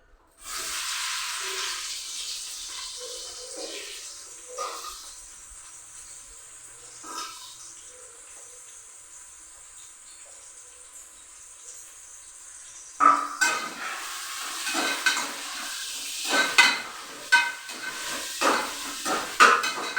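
Onions added to hot oil in a small pressure cooker for pulao sizzle with a bright, steady hiss, later joined by sharper scraping and stirring clatter as the frying continues.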